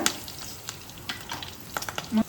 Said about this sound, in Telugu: కొంచెం కరివేపాకు, జీలకర్ర, ఇది కొంచెం ఫ్రై అయిన తర్వాత